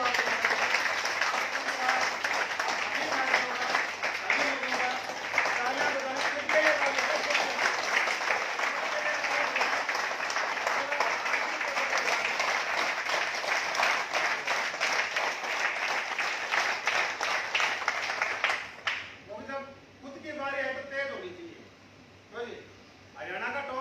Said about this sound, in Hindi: तो दोस्तों, अगर आप अपने लिए तालियां बजा लें,